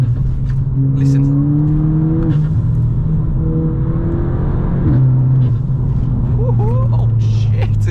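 A Volkswagen Scirocco engine hums steadily from inside the car while driving, with rising tonal drone as it accelerates, loud and continuous throughout.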